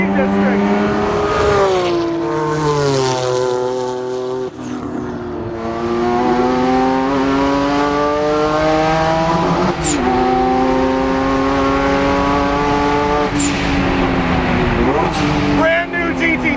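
A twin-turbo Porsche Boxster chases a GT3 around a race track, its engine wailing loud and close through shifts and climbing revs, with sharp pops at intervals and a voice speaking over it.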